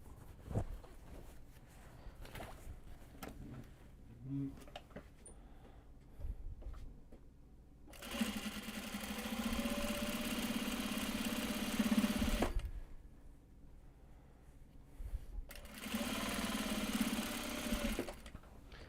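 A sewing machine stitches the finishing seams on large box bags in two long, steady whirring runs, separated by quiet pauses with faint handling sounds.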